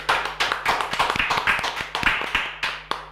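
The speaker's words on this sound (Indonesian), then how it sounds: "Salut, tepuk tangan Yeay. untuk narasumber kita" A small audience claps for a guest speaker at an Indonesian talk, a modest cluster of hands giving distinct, close, slightly uneven claps that taper off to a few scattered last ones.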